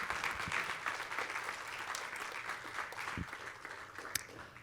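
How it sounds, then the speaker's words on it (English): An audience at a school beginning band concert applauds, a steady crowd of clapping hands that holds at an even level from start to finish, with a few louder individual claps popping out. "let's give them a round of applause for taking time out of their day to be here"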